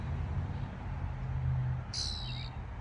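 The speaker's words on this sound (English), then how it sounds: "Yep, there you go, making your other noise, you little trickster." A single bright, brief call from a black bird rings out near the end, following a stretch of steady low outdoor rumble with no voices.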